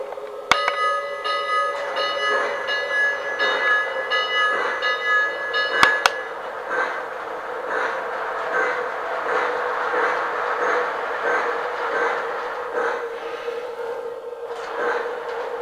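A Lionel Polar Express toy train runs steadily on its track with a continuous mechanical whir and rhythmic clicking, a bright bell ringing at the start and again midway, with no talking.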